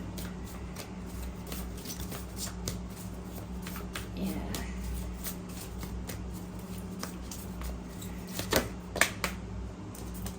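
A Moonology oracle card deck being shuffled by hand, heard as soft, quick riffling flutters with a few sharper slaps near the end, fairly quiet and close over a low background hum.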